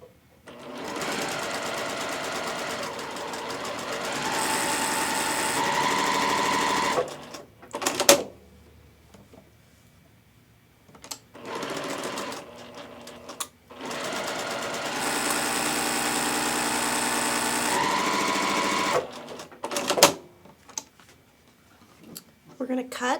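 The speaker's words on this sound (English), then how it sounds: "we're just going to sew directly on our drawn line" A sewing machine stitches quilt squares along a drawn line, running in several steady whirring bursts of a few seconds each, separated by pauses with brief handling clicks and some talking.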